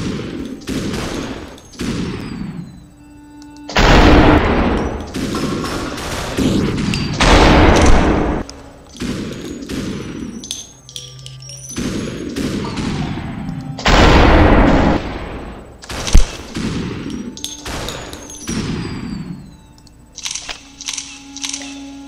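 Gunfire in the video game SuperHot: loud, sharp bursts of shots come in clusters over about twenty seconds, separated by quieter gaps.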